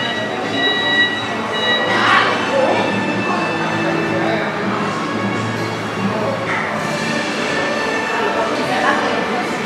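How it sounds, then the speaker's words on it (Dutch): A theme park train ride at Europa-Park rumbles along steadily with a faint wheel squeal, while voices chatter over the continuous rolling noise throughout. "En we gaan eerst het treintje pakken helemaal naar de andere kant van het park."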